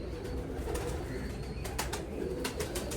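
Pigeons coo in a loft, soft low repeated cooing under a constant background hum, with a few brief sharper chirps or wing-like rustles toward the end.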